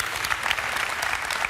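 An audience claps steadily at a sales event, a brief, even burst of applause with no talking.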